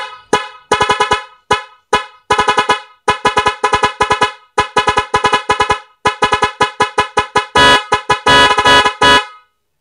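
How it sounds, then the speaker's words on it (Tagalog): A loud stock factory car horn honks in rapid, repeated bursts, short blasts in quick patterns building to longer sustained honks near the end, with no talking. "So yung stock horn, buhay pa."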